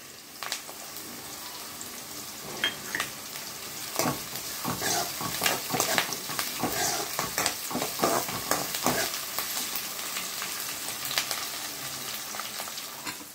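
Curry leaves sizzle and crackle in hot oil while making chicken pepper curry, a steady close frying hiss broken by sharp popping bursts through the middle stretch, with no voices.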